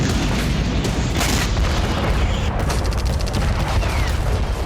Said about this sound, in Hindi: धमाकों से कांपती जमीन का वो हिस्सा जहां हर कदम पर मौत का खतरा है।